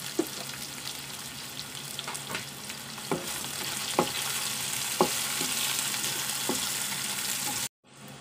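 Garlic, ginger and onions sauté in hot oil for Bicol Express, a continuous close frying sizzle broken by repeated sharp stirring clicks and scrapes before it cuts off abruptly near the end.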